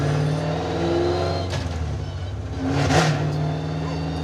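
A muscle truck's engine running under way, heard from inside as a loud steady drone that swells and eases with throttle changes, rising to a stronger surge near the end, with no speech over it.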